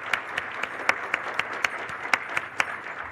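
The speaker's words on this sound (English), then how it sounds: "Give him another round of applause" Applause from a conference audience for a keynote speaker, a dense wash of clapping with a few distinct louder claps standing out, steady and moderately near throughout.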